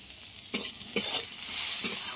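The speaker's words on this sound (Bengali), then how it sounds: "পেঁয়াজটা যতক্ষণ না একটু ব্রাউন কালার আসে ততক্ষণ একটু ভেজে নিতে হবে" Chopped onion frying in a pan with mango and bitter gourd, a bright steady sizzle punctuated by three or four stirring scrapes, close and clear with no voices.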